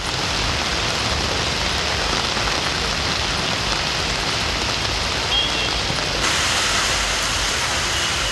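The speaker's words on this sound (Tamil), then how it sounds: "தேனி மாவட்டம் பெரியகுளம் சுற்றுவட்டாரத்தில் இடிமின்னலுடன் 1 மணி நேரத்திற்கு மேலாக மிதமான மழை பெய்தது." Moderate rain falling steadily during a thunderstorm in the Periyakulam area of Theni district, a dense, loud, continuous hiss of drops on surfaces with no distinct thunderclap.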